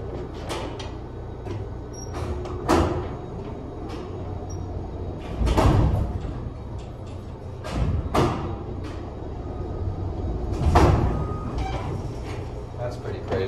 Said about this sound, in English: We can just run it with the doors open, watch.